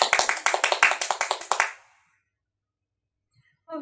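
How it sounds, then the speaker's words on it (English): A small audience claps for students after a school strings concert, a brief burst of separate, distinct hand claps that stops abruptly, followed by silence and a faint voice at the end. "So everyone, let's give the students one more round of applause."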